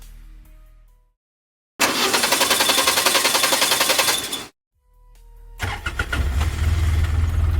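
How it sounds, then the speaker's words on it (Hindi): A car engine cranks repeatedly without catching, two loud bursts of rapid, rhythmic starter churning separated by a short silence, close and with no voices, as a sound effect. "अमित ने बार बार चाबी घुमाई, पर इंजन ने जवाब नहीं दिया।"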